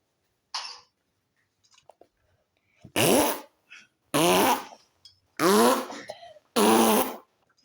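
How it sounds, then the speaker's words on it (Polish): Farting in a school toilet: a short burst is followed by four long, loud, buzzing fart sounds at an even spacing, heard close up with silence between them. "A, ale tam były pierdy!"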